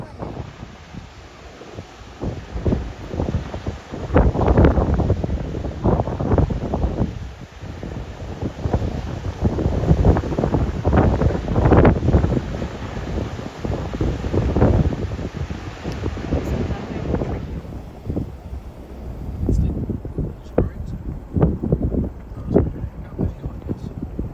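Strong wind buffeting the microphone in loud, gusty bursts, a constant roaring rush that eases slightly toward the end.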